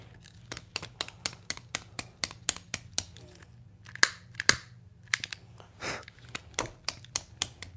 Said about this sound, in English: then I'm just gonna cut it off and burn the edge or the end that I cut